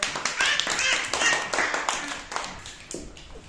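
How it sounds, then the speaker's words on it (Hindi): Children in a classroom clap for their classmates with quick, uneven handclaps that gradually thin out, with voices mixed in. "इनके लिए ताली बजाओ।"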